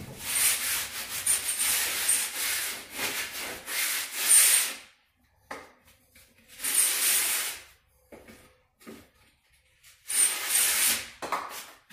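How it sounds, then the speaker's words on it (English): A handheld drywall planer shaves a drywall edge in several rough rasping bursts, a few seconds each, separated by short pauses. "Got a little tool here we use. Call it our drywall planer."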